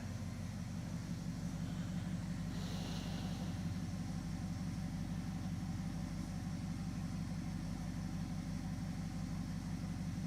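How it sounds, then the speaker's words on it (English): A Dodge Charger crew cab engine idles at a steady low rumble, constant and close, with no voices. "What RPM is it idling at?"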